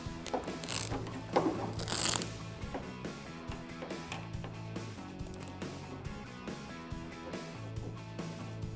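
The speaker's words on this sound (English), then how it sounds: "you can loosen and tighten these tension rods to get it to fit." Ratchet clicks from the tension rods of a Truxedo Pro X15 roll-up tonneau cover being tightened on a 2015-2018 Ford F-150, heard as a steady run of close mechanical clicking that lasts throughout, with no talk.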